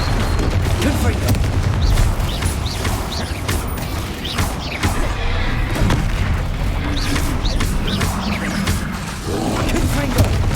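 Repeated Confringo blasting spells explode during a troll fight in Hogwarts Legacy, with loud booming impacts and roaring over dense, continuous combat noise; someone speaks during it.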